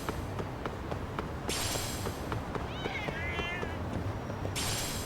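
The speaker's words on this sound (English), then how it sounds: "Hey, cats." Cats in the game Lost Judgment give a couple of short, wavering meows midway through, set against a busy street ambience with soft rhythmic taps and bursts of hiss.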